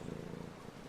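A cat in the video game Brothers: A Tale of Two Sons purrs in a steady, close, continuous rumble that stays even throughout.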